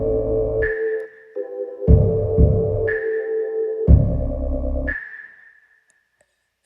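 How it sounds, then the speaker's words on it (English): Pure sine-wave bass tones from a LUNA session, deep and smooth, playing several sustained notes in a stepped pattern alongside a higher ringing tone, then fading into silence. "And the bass is, again, it's just a sine wave."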